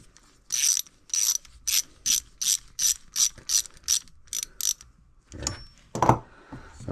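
A ratchet tightens a part on a 1975 Honda XL250 motorcycle, with about a dozen evenly spaced, crisp clicking strokes close by, then a brief clunk of handling.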